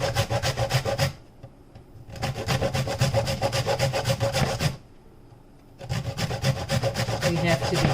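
A large piece of coconut is rubbed against a hand grater in steady, rhythmic rasping strokes, close and loud. Two bursts of grating are each followed by a brief pause before the next burst begins.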